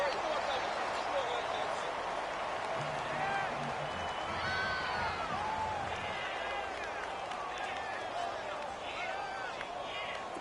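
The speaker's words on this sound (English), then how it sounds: "The crowd getting into it as we come up on a big third down." Steady roar of a large football stadium crowd at a Jaguars vs Chiefs game, building ahead of a big third down, a dense wash of cheering, whistles and shouts running continuously, with a faint commentator voice in the mix.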